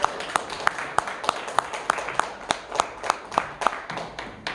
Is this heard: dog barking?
no